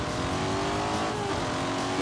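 Lamborghini Urus with a turbocharged engine pulls hard uphill, a steady loud engine drone with rising harmonic pitch under acceleration, continuous and close throughout.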